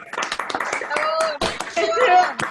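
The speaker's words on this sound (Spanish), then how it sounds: "un aplauso para vos" An audience claps during a cultural event on the history and economy of the Chubut River valley, a short burst of scattered applause mixed with cheering voices and someone speaking nearby.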